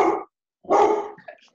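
A dog barks twice at a honey competition, a short bark followed after a pause by a longer, fuller bark trailing into a small whine, fairly close and loud with no talk.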